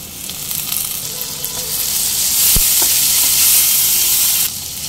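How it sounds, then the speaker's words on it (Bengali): A large tomato, finely chopped, lands in a hot pan and sizzles loudly and steadily at close range, the hiss swelling midway with a single soft knock before easing slightly at the end. "এবার দেব একটা বড় সাইজের টমেটো ছোট ছোট করে কুচিয়ে নিয়েছি, দিয়ে দিচ্ছি"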